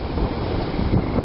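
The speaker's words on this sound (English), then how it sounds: "really windy." Strong wind buffets a microphone on an RV roof, a continuous loud roaring rush with gusty swells and no voices.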